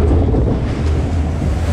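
Loud, steady rush of water and wind on a Fantasy Island log flume ride as the log drops and splashes, a dense roar close to the microphone without talk.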